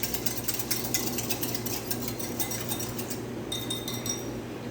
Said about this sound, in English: I'm just going to whisk this up and get my milk and eggs mixed up together.